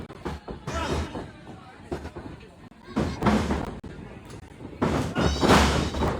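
A wrestling match with a clothesline takes a wrestler down, heavy thuds of a body slamming onto the mat ringing out at intervals amid crowd noise and a commentator's voice.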